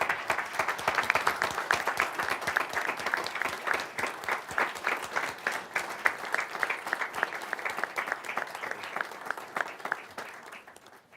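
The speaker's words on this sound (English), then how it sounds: "Let's do a round of applause first." Applause fills a city council session for a departing community member, a room of people clapping in a brisk, steady rhythm at close range that slowly fades over about eleven seconds.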